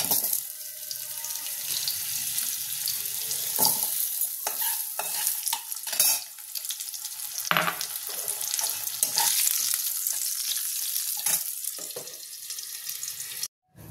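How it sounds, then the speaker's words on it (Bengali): Potatoes fry in oil in a kadai, a loud, steady sizzle close by with intermittent scrapes and clatters of stirring, no voices. "এবার আমি আলুটা ভেজে নেব। আলুটা একটু হালকা লাল করে ভেজে নেব।"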